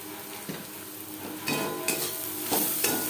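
Turmeric being stirred into fried onions in a pan for masoor dal with chichinga, a steady close sizzle with soft scraping strokes and occasional spoon knocks against the metal.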